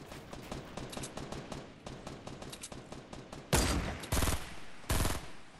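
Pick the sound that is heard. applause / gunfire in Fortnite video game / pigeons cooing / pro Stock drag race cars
gunfire in Fortnite video game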